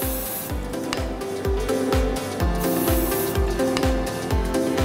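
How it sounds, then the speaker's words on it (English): Short hiss bursts of hairspray applied to smooth baby hairs on a high ponytail, repeated in a steady rhythm close by, over soft background music. "now I'm going to use hairspray to stick all the baby hair."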